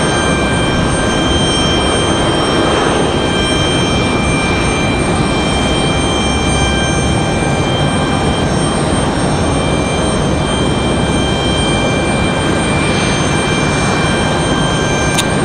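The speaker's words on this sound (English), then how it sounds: "hopefully we can hear the C-17's departure" Boeing C-17 military jet departing from Raleigh Durham airport, a steady loud broadband roar sustained throughout, with other background noise mixed in.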